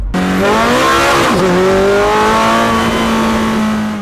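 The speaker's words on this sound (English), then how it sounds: "They just want to hear the car just go absolutely off its face." A Ferrari F430 engine revs hard, its pitch climbing and holding at a loud, close roar, with a brief dip as it shifts.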